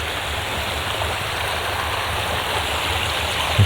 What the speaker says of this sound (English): But this is the creek.